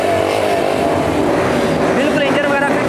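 A used Honda 125 motorcycle idles steadily after an electric self-start, its engine note loud, close and continuous throughout.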